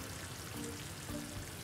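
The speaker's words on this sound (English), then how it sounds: "while that syrup is bubbling away" Sugar syrup boils in a pot on the stove, a faint, soft, continuous bubbling and sizzling hiss with no voices.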